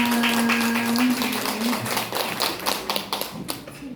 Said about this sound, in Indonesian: beri tepuk tangan Bapak Ibu Guru kepada pemateri kita